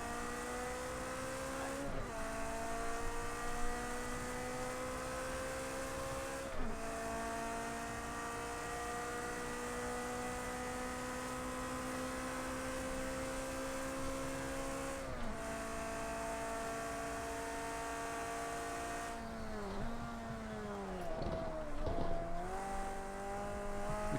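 Race car in Project Cars 2 with a steady, high-pitched engine drone that drops in pitch at each gear change, including a few downshifts near the end, with faint tire noise underneath.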